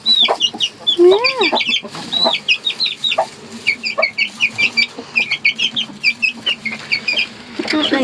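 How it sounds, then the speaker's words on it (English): Small chicks on an allotment cheep and peep in quick bursts with rising and falling calls, close by and steady throughout, while a person says a brief word partway through. "This is the chicks. Little chicks."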